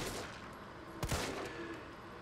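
Gunfire in the Resident Evil 3 remastered game on PS4, heard as a couple of sharp close shots bursting out over a constant loud noisy background.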